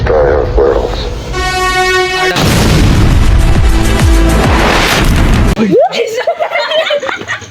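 A Diwali firecracker bomb bursts outdoors at night with a loud, sharp blast that leaves a broad crackling roar, after an earlier whistling tone, while excited voices talk around it.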